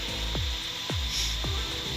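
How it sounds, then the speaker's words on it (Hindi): An electric drill powered through a 1 kVA H-bridge solar inverter kit runs with a steady whine, with about four repeated descending grinding strokes close by. "मैंने अभी ड्रिल मशीन चलाई है"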